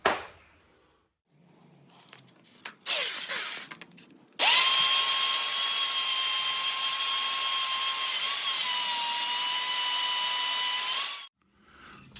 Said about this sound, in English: I was going in through the fork hole with my belt sander, like that, shaving it down